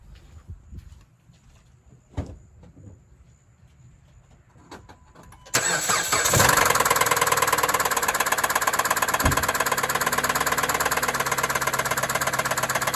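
After a few quiet seconds of small knocks, a car engine with rod knock cranks and roars to life, then keeps running loudly and steadily to the end.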